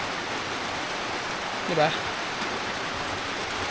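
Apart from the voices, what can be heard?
rain falling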